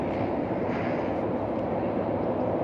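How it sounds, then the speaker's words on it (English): A train passes behind someone standing outdoors, giving a steady rumbling, rolling roar that stays even and moderately loud throughout with no voices. "I hear a train behind me"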